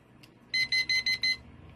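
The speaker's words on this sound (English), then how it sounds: "So the timer is set for 30 seconds." A kitchen timer set for 30 seconds goes off with a burst of five quick, evenly spaced high electronic beeps, fairly close and clear against a quiet room.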